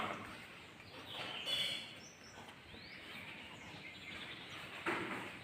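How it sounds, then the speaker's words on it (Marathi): Faint, scattered bird calls ring out in the open grounds around a village Durga Devi temple in Guhagar, Konkan, on a misty morning. Brief, distant chirps rise over a soft ambient background. "पक्ष्यांचे आवाज येत आहेत."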